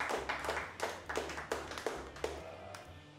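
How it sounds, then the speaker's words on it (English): A small audience gives quiet, scattered applause after a deadlift attempt at a strength event, with distinct separate claps in a loose rhythm. "getting a round of applause"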